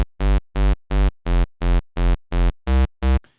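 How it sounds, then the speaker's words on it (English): Square-wave bass patch from the Harmor synthesizer with extra sub added, for UK hardcore rave: eight evenly spaced, punchy sustained notes repeat at the same pitch, loud and alone, then a short noisy tail. "So it's basically a boring square waveform with a little more sub than normal."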